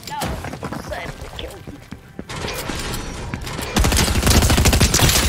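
Fortnite SMG gunfire crackles in dense rapid bursts amid game noise, loud and busy, growing heavier near the end, with voices talking over it.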